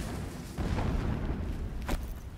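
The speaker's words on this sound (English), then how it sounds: "And then we're gonna head towards the explosions" Distant explosions rumble in the Horizon Zero Dawn action game, a dull low booming and crackling haze with a couple of sharper bursts, heard faintly from afar.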